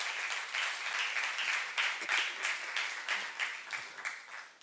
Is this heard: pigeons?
no